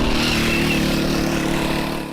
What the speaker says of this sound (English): That is the sound of a boda boda, the motorbikes you see all across Uganda carrying people and goods.